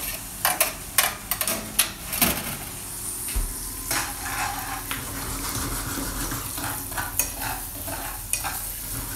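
Potatoes frying crisp in a pan, with a constant sizzle broken by sharp, repeated scrapes and taps of stirring, close and fairly loud, no talking.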